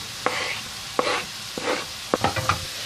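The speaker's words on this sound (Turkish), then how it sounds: "Şimdi küçük küçük doğramış olduğum bir adet havuç, bir adet soğanımı ilave ediyorum" Chopped carrot and onion tipped into a pan of sautéed mushrooms for creamy mushroom spaghetti, giving a soft sizzle with several scraping stirs and clatters of the utensil, close by with no talk.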